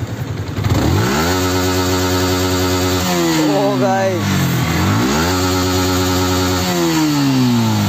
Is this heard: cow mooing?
no